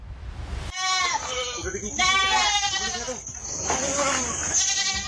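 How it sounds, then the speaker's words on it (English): Goats bleat loudly and repeatedly, several wavering cries in a row, close by over a steady high-pitched background hiss. "a group of farmers woke up to the sound of their goats crying loudly"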